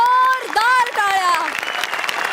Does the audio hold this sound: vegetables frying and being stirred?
no